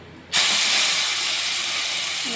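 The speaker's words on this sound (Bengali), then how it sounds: "এবারে কচুটা দিয়ে দেবো" Pieces of taro drop into hot oil already crackling with mustard seeds and dried red chilies, setting off a sudden loud burst of sizzling that holds as a steady hiss.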